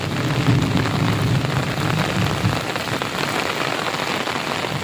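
Heavy rain pours steadily during a thunderstorm near Mini Girnar, a dense, continuous hiss of drops hitting surfaces close by, with a low rumbling undertone in the first half that fades away.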